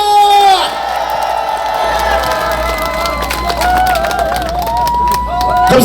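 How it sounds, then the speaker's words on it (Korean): A campaign rally crowd for presidential candidate Kim Moon-soo in Gongju, South Chungcheong, claps and cheers loudly and continuously, with whoops and shouts rising over a steady roar and a voice calling out over it. "다 함께 박수와 함께 함성을 부탁드리겠습니다"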